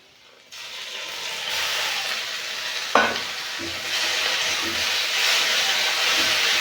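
Jute leaves drop into a pan of fried chili, onion and garlic, setting off a sudden loud hiss that settles into steady sizzling, with a sharp clack and a few stirring knocks close by.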